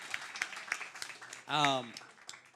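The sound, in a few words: audience applause at comedy show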